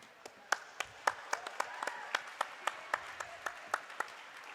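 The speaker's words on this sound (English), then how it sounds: "please give a round of applause to the volunteers and to the officials on skates and off who keep everybody safe and this game going" A roller derby crowd claps for volunteers and skating and off-skates officials at a sold-out bout, sparse individual claps ringing out sharply and fairly evenly over a quiet hall murmur.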